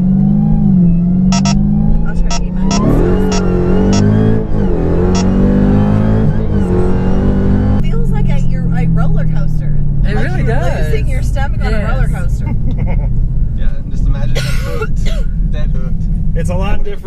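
A 1000hp 2018 Dodge Demon engine rumbles loudly from inside the car, its pitch rising and falling as it revs and accelerates, and people talk throughout.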